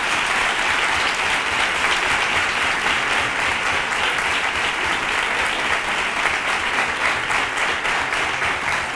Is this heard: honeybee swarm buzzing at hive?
no